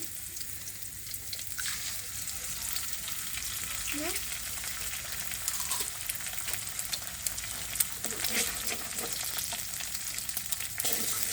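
Noodles frying in a pan as an egg is added, a dense continuous sizzle with occasional scrapes and light knocks of a spatula, close and steady, with a faint voice now and then.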